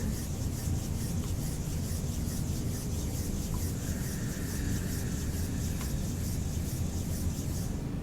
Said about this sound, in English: take your own healing hands and rub them together